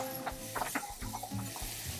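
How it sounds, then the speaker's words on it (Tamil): Chopped onions sizzle in a pan while being stirred for a sardine gravy, with soft crackling and scraping strokes close by, fairly quiet. "வெங்காயம் இந்த மாதிரி நல்லா வதங்கி வரும்போது"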